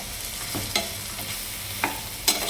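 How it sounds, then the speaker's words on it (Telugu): Raw plantain fries in hot oil with a steady soft sizzle, broken by a few sharp spoon scrapes and clicks against the pan; no talking. "ఇప్పుడు ఇది నూనెలో వేగిపోవాలి"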